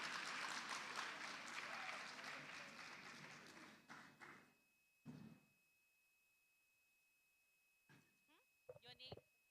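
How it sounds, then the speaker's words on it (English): Loud, dense applause from a summit audience for the girl child, with cheering mixed in for about four seconds before fading to a few scattered claps, then quiet room tone and brief voices. "Please, yes, clap for her"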